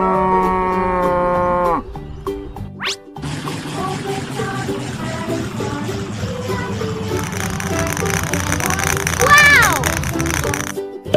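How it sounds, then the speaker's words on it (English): A cow moos loudly in a cartoonish, toy-like recording, preceded by a short sung tone and followed by a bright jingle, with playful background music and sound effects throughout. "Cow."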